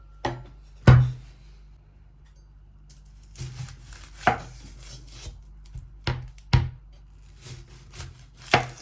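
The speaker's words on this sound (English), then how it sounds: "Start chopping." Vegetables are chopped on a board for biryani, with several sharp knife thuds spaced irregularly amid softer scraping and rubbing sounds, close and clear with no talk.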